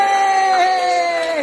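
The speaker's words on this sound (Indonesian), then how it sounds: "Kita kasih aplaus buat kelompok 6" Cheering and shouting from a classroom of students for group 6, a loud, continuous crowd roar with whoops, lasting about a second and a half.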